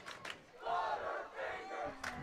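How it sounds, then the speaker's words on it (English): A football crowd at a Christ School varsity game swelling into loud distant yelling and chanting, two rising waves of massed voices with sharper shouts at the edges. "And the crowd getting loud once again here at Christ School"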